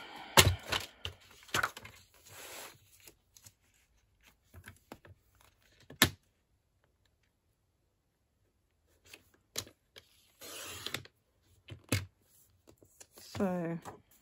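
A journaling card is cut in half by hand, with scattered crisp snips and paper rustles around a quiet stretch in the middle, and a person speaking in places.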